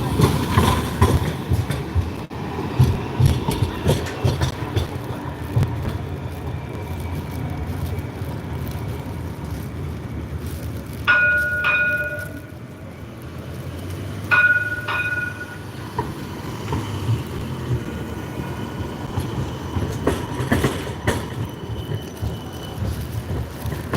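A Cincinnati city streetcar rumbles and clatters along its rails for the whole stretch, loud and close with a steady low roar and two short chime or bell tones in the middle.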